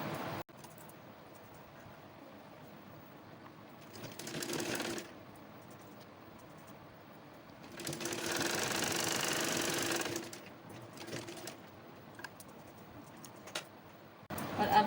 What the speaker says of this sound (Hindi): इस साइड से इस तरह से फोल्ड करूँगी मैं और इसके ऊपर सिलाई चला लूँगी।